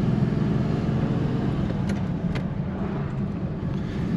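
A 1950 Mercury four-door sedan's engine runs smoothly while driving, a steady low rumble held at an even level throughout with no talk.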